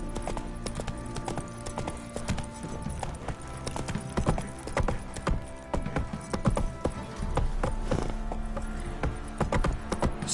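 Roach, Geralt's horse in the video game The Witcher 3, gallops with loud, steady clip-clop hoofbeats that drum in a fast, continuous rhythm throughout, with no talking over them.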